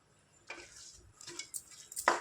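Mutton curry with chili powder and tomatoes being stirred in a pot, a few scraping, clinking strokes of a spoon against metal at close range, quiet and irregular with no talking.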